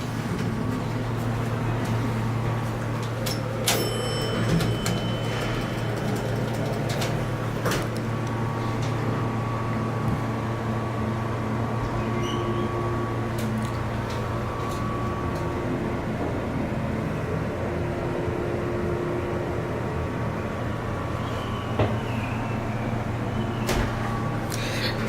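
An old hydraulic elevator at The Biltmore Shops in Asheville, North Carolina, runs with a continuous low hum and drone for about 25 seconds, marked by occasional clicks and clunks, with no voices.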